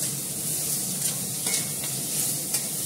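Vegetables with carrot are stir-fried in a hot pan for chowmein, giving a steady close sizzle. Several sharper scrapes and clanks of the spatula cut through the frying.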